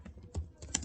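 A few quiet computer keyboard keystrokes entering data in Tally accounting software: three or four soft, close clicks within a second.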